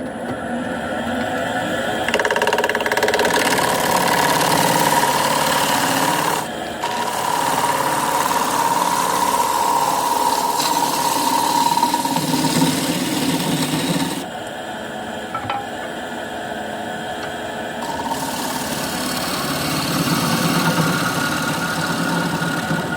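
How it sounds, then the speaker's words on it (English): A 1/2-inch bowl gouge cuts an elm live-edge bowl spinning on a wood lathe, making a loud, continuous rasping scrape over the motor's steady hum, with brief dips where the cut eases before resuming. "I can maybe get in a little bit if I use my 1/2-inch bowl gouge, and I'll be able to get a nice pass"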